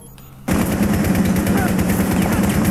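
Rapid automatic gunfire from Rainbow Six Siege erupts after a brief quiet moment and keeps going as loud, steady bursts until the end.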